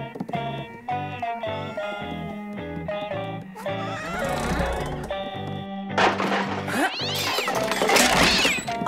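A cartoon cat meows over a busy, melodic music score, the cries short and fairly close, blending into the bright instrumental backing.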